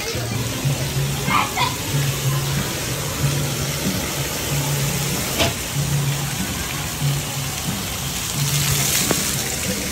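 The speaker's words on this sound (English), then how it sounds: "That big old bucket of water falls and makes a big old splash." A large tipping bucket of water at Universal Studios Orlando dumps and splashes amid steady rushing water and crowd noise, with people talking nearby.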